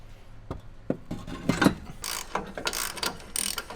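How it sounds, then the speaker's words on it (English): Ratchet wrench tightening bolts on suspension coil tower parts of a long-travel Patrol 4x4, heard as bursts of quick, close mechanical clicks with short pauses between strokes. "So I'm going to get this all bolted in"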